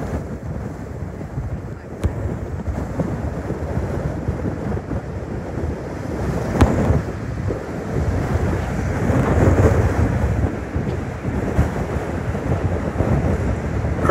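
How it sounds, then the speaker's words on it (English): Wind-whipped waves crash over a high lake wall in flooded Port Clinton, making a continuous heavy roar with surges of surf. Gusts buffet the microphone throughout, and there is no talking. "But them waves are crashing over like nothing."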